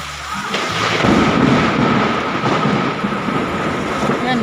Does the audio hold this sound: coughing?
no